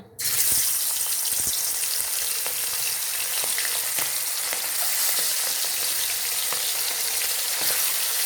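Prawns frying in hot oil in a kadai for an Odia-style prawn curry, a continuous bright sizzle that starts abruptly and holds steady and close, with occasional stirring clinks.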